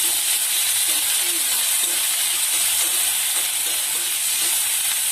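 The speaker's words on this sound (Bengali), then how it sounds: "রসুন দিয়ে দিচ্ছি চিকেনটাকে ভালো করে ভেজে নেব" Garlic and chicken frying in a pan give a loud, steady sizzle and hiss, with faint stirring underneath throughout.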